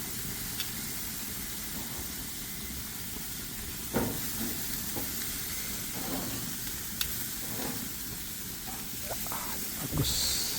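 Steak fries in a pan with a constant hissing sizzle, broken by a few brief scrapes and knocks as pieces are turned over.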